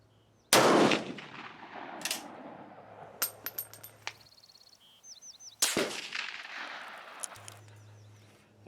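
Swiss K31 bolt-action rifle restored by Lencac fires sharp, loud shots at an outdoor range, each blast followed by a short decaying echo, with metallic clinks of the bolt and ejected brass between the two main reports.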